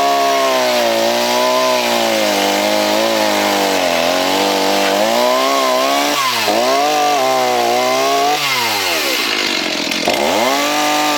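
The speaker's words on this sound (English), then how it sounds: "Now it's time for a little chainsaw." Close, loud chainsaw cutting wood slabs for the floor of a chicken coop composter, a steady high whine that bogs down and revs through several cuts, running alone without talk.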